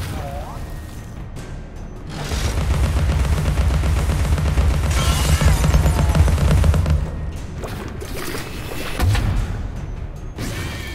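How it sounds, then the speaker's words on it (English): Tea cannon firing in Alice: Madness Returns, a loud sustained barrage of rapid popping shots lasting several seconds, then a final burst, with someone talking over parts of it. "Alright, I now officially love the tea cannon."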